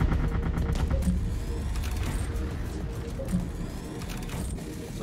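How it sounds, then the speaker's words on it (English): Rapid gunfire in the video game Artificial Extinction striking the player, a dense fusillade of repeated shots and impacts over a busy mechanical game soundscape, steady and moderately loud throughout. "What's shooting me?"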